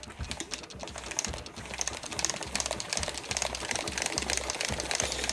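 A Nintendo Labo cardboard fishing rod reel is wound, producing rapid, close, steady clicking that runs without a break, alone with no voices.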